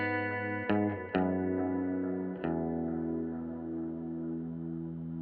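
Electric guitar chords strummed a few times, ringing out with lush reverb and echoing delay that sustain and slowly fade, played alone.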